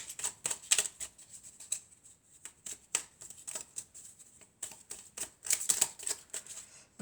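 A deck of tarot or oracle cards being shuffled during a reading: bursts of crisp riffling and slapping in uneven clusters, close and fairly quiet, with short pauses between runs and no talking.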